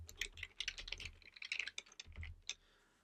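Rapid typing of code on a computer keyboard, with quick irregular key clicks in close bursts and a short pause before a final few strokes, with no speech over it.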